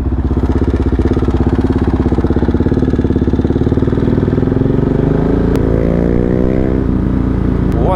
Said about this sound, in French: Oh la petite MT-125, pop pop pop.